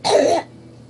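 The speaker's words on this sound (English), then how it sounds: "Yes, I croak and clear my throat" A single short, raspy throat clearing, close and alone, lasting under half a second before quiet.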